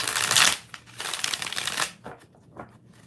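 Tarot cards are shuffled briskly and loudly close by, a dense riffling flutter that settles into a few lighter taps and slides near the end.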